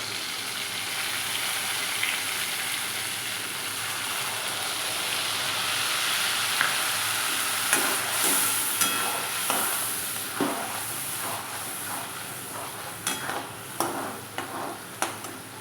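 A roasted tomato, ginger and green chili masala fries in a pan for masala paneer, with a continuous hiss and sizzle. Scraping stir strokes grow more frequent toward the end, and no voices are heard.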